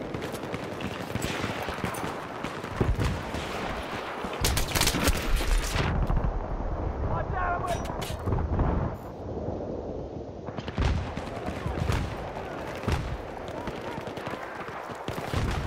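Magnum revolver fire in the Battlefield 3 Team Deathmatch map Noshahr Canals, with heavy, overlapping gunshots and blasts cracking repeatedly over dense, continuous battle noise.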